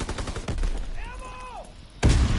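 Combat shotgun loaded with fire shells in a WW2 shooter game: heavy, booming blasts near the start and again at the end, with a brief voice and scattered battlefield gunfire in between.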